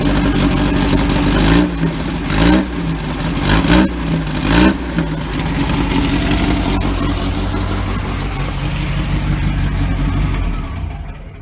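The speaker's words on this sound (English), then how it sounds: "running great. I took the muffler off" A 1966 Baja Bug engine running with its muffler removed, loud and close, with a steady raw idle broken by several short revs early on before settling into an even drone.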